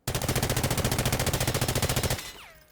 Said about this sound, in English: So that was around 30 bullets, but with the rate of fire of almost 900 rounds per minute